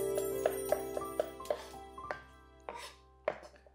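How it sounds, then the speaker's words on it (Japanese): A kitchen knife rapidly minces ingredients for beef stroganoff on a cutting board, with a steady series of sharp, close taps and light metallic tinkles, no voices. "包丁の尻の方で軽く叩きながらですね、みじん切りをしていきます"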